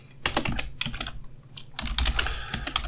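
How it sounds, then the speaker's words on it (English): Quick keystrokes on a computer keyboard as an email address is typed into a web form, a close, uneven patter of clicks with a short pause midway. "So let's type that in again."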